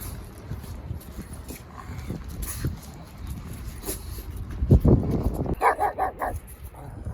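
A small dog on a walk barks and yips at a bigger dog, with sharp, higher-pitched whining yelps building toward the end over outdoor background noise.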